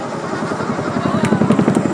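Twin-engine Chinook helicopter climbing hard at the Southport air show in 2023, a loud, steady rotor and turbine roar with rhythmic blade thumping that grows slightly stronger toward the end.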